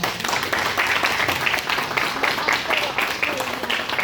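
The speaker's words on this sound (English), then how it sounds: "big round of applause for that" Applause at the closing of a 48-hour coding hackathon event, a loud, continuous rattle of many hands clapping in a large room, with some voices faintly mixed in.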